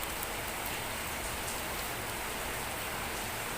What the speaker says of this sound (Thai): ฝนตกแรงมากเลยค่ะ